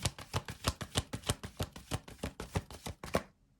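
An oracle card deck is shuffled by hand, giving a quick run of crisp, close riffling taps in a steady rhythm that ends abruptly, with no voices over it.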